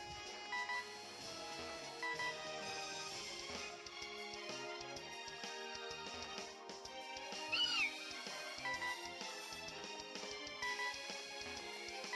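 A brief, high, warbling cat-like cry of Skitty from the video game Pokémon Omega Ruby cuts once through busy, steady game background music partway along.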